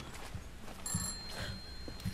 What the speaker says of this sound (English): Oh, a phone!